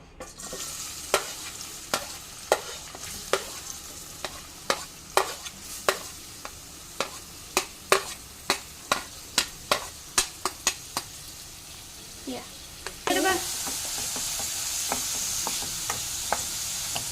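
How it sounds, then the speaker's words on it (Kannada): Chopped onions frying in ghee in a pan, a steady sizzle under a long series of sharp spatula scrapes and clicks at a regular pace, with the hiss swelling louder near the end; no talking. "ಆನಿಯನ್ ಸ್ವಲ್ಪ ಫ್ರೈ ಆಗಲಿ, ಸ್ವಲ್ಪ ಗೋಲ್ಡನ್ ಬ್ರೌನ್ ಆಗಲಿ."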